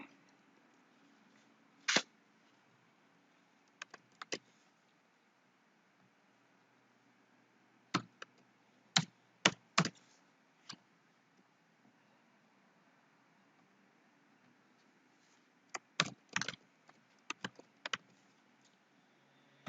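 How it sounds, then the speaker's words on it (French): Password keystrokes on a computer keyboard come as faint, sparse clicks in small bursts separated by quiet pauses, close and isolated without speech. "La secrétaire tape le mot de passe et voilà l'interface du fiche patient."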